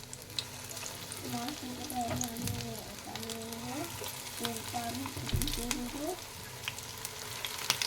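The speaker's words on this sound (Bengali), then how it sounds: "এবার যে টিক্কিগুলো বানিয়েছিলাম আলু সেগুলো আমি ছেড়ে দেব, ভেজে নেব" Four potato tikkis for burgers frying in refined oil in a nonstick pan on a gas flame, a steady close crackling sizzle with a few stirring clinks and a faint voice in the background.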